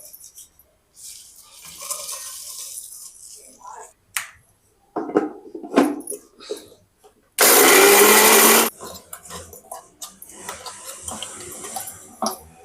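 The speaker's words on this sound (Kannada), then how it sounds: "ಈಗ ತಣ್ಣಗಾಗೈತಿ, ಇದನ್ನ ಮಿಕ್ಸಿಗೆ ಹಾಕೊಳ್ಳೋಣ." A loud mixer grinder whirs for a couple of seconds grinding roasted chillies, amid clattering and handling noises, with brief talk before and after.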